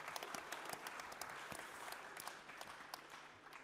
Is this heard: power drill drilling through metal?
no